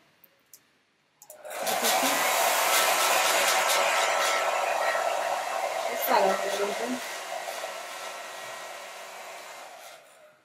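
A hair dryer runs steadily for about nine seconds, drying a textured clay stamp during a stamp-making class, its whoosh shifting briefly as the airflow moves across the piece before cutting off.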